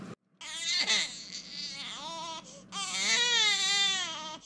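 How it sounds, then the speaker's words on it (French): An infant in an animated French drama cries in long, loud, wailing bursts, three drawn-out sobs separated by brief breaths, close and alone. "Tu n'entends pas le bébé pleurer depuis?"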